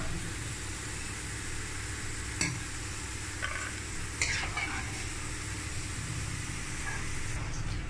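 Continuous sizzling of bitter gourd frying in hot oil, with a couple of brief clinks and stirring sounds over a low background hum.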